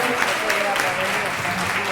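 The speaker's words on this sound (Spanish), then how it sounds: "Un aplauso, por favor." Audience applause at a gala dinner marking an association's third anniversary in Valencia, a steady dense clapping that fills the whole stretch with a roomy, sustained texture.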